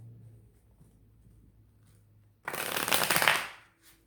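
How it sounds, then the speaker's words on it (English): After a quiet pause, a brisk burst of tarot card shuffling rises up close and loud for about a second, then fades out. "I'm being told one more shuffle."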